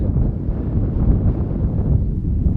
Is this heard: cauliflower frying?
no